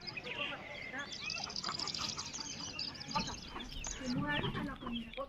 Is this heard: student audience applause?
no